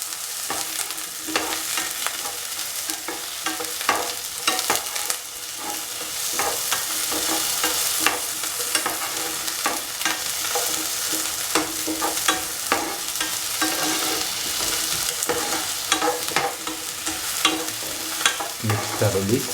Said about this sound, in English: Mix thoroughly so that the aubergines, the green chili and the onions are thoroughly mixed.